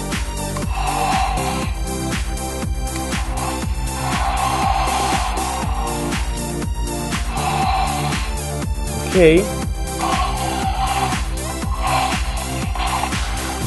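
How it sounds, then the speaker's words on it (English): A Jurassic World Roarivores Ankylosaurus toy gives off a busy electronic sound effect: repeated rhythmic thudding footfalls over a dense, noisy background rumble, with a brief rising squeal near the end. "sounds like this dinosaur is actually like stomping through a forest"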